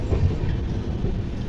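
A long-distance passenger train running late from Tatanagar pulls into Santragachi station, a close, steady low rumble of wheels and carriages with faint rail clatter and no talking.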